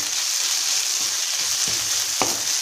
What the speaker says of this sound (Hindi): तो ये अब हमारा प्याज के साथ साथ लहसुन और अदरक का दरदरा पेस्ट भी भुना जा रहा है